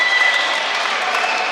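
A dense, loud roar of applause and cheering from the crowd filling a judo arena during a plus-100-kilogram contest at the Tbilisi Grand Prix, sustained and even throughout.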